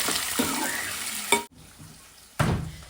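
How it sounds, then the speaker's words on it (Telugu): Okra fry with lentils and green chillies sizzling in a pan in a village kitchen, a steady broadband hiss broken by a brief pause and a louder burst of frying as ingredients go in. "బెండకాయ ఫ్రైలో పప్పులు, ఆ తర్వాత పచ్చిమిరపకాయలు"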